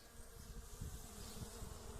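Dense, steady buzzing of many honey bees at a hive close by, a continuous drone with no speech.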